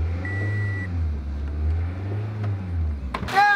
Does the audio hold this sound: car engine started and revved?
yes